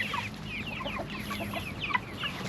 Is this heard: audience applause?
no